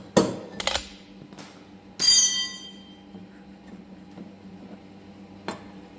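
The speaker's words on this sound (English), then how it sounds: "tap the other side with a soft-faced hammer, and the flywheel should pop right up" A soft-faced hammer taps a Honda lawn mower flywheel to free it from the shaft: a handful of sharp, close knocks spaced unevenly, one ringing louder with a metallic tail, and no talk.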